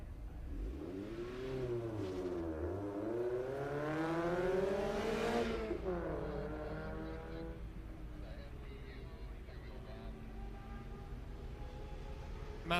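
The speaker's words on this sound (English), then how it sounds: "Jerry Bonnet is the driver who just left the line in the 36 Focus." The number 36 Ford Focus race car pulls away at Daytona, its engine revving up through rising, sweeping pitches, dipping with gear changes, then receding into a lower steady drone.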